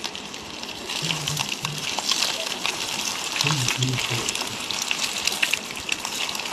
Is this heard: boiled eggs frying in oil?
yes